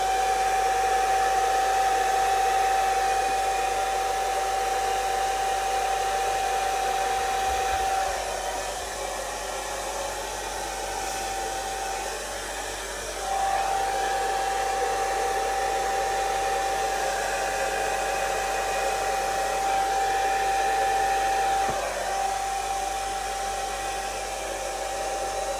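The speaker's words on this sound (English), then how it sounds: "I'm gonna go in with the hairdryer again." A hair dryer blows steadily and close on wet acrylic pour paint. It makes a constant whining airflow with a high tone that briefly dips and shifts as it is moved, and no voices are heard.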